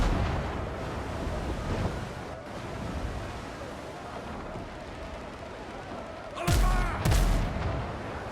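Ship cannons fire in the naval combat video game Windrose, two sharp booms near the end over a constant wash of wind and sea noise.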